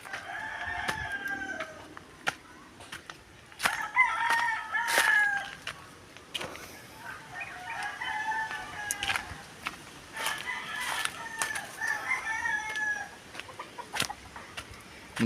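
Chickens and a rooster crow and cluck repeatedly at moderate distance, with overlapping calls and sharp clucks recurring every few seconds over a quiet outdoor background.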